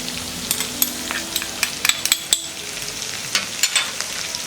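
Coriander powder is stirred into a moong dal tikki mixture over heat, with a low steady sizzle and bursts of quick scraping spoon strokes, close and without speech.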